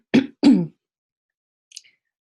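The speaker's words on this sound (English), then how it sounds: "Excuse my cough." Two quick, sharp coughs or throat clears close to the mic, followed by a faint short sound, with silence between.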